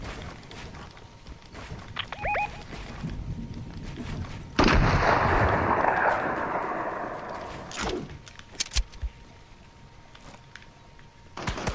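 Rocket explosions in the game Fortnite, a sudden loud blast followed by a long rumbling decay, with sharper distant bangs and small clicks around it, no talk.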